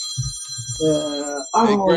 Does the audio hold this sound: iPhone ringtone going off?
yes